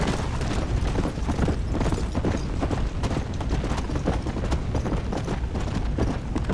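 Rapid, continuous clip-clop of horse hooves galloping in Red Dead Redemption: Undead Nightmare over a dense, rumbling background, loud and constant throughout.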